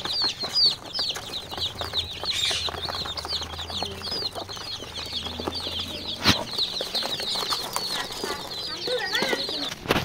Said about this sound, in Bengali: লেয়ারগুলো শাক খাইতে অনেক পছন্দ করে, শাক দিয়ে দিলাম, দেখতে পাচ্ছেন। মারামারি ফাড়াফাড়ি ঘোরাঘুরি করে শাক খায়।